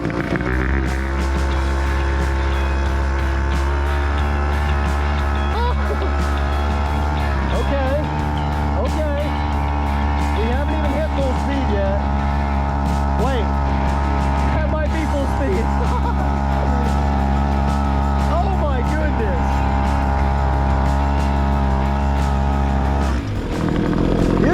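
A small $250 outboard motor mounted on a pedal boat drones loudly and continuously, a buzzing engine hum that wavers slightly, with voices talking and shouting over it.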